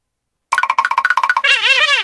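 A text message ringtone starts after a short silence: a rapid run of bright, bell-like chiming notes, then a brief, warbling electronic tone, loud and close.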